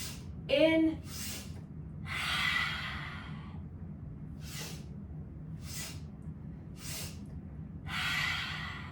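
Slow, deep breaths during a lymph-flow yoga exercise, several soft airy inhales and exhales at a relaxed pace, close and fairly quiet, with a brief sniff near the start.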